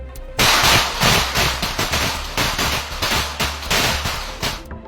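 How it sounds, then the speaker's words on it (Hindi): A rapid string of sharp, loud pistol shots at a 25-metre standard pistol shooting range, close and punchy, about a dozen cracks with short echoing tails. "10 सेकंड में 5 गोली चलाने के लिए दमखम भी चाहिए"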